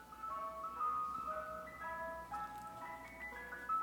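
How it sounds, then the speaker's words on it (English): An ice cream truck passes outside playing its jingle, a bright repeating chime melody with shifting notes heard steadily over light traffic-like background noise. "I think this ice cream truck just loves to come at a certain time every day"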